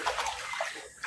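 Water rushes and sloshes as it drains out through an opened clean-out of a concrete pig pool, a close, steady gush with slight gurgling.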